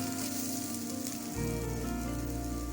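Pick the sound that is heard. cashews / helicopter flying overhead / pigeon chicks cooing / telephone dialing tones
cashews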